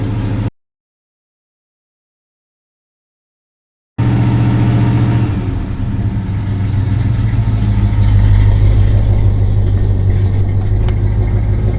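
A classic car engine with no choke runs loud and close after a few seconds of silence, settling into a steady, rumbling idle with a slight swell in revs.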